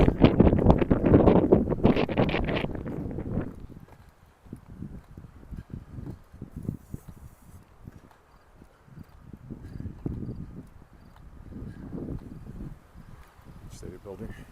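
Gusty wind buffets the microphone in a low, rumbling roar while walking outdoors in Regina in the morning, with a voice talking briefly at the start and outdoor noise continuing beneath.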